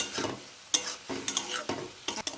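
Curry of onion stalks, sweet potato, tamarind and tomato stirred and sautéed in a pan, giving a soft steady sizzle broken by several sharp scraping strokes of a spoon against the pan, close and alone with no talk.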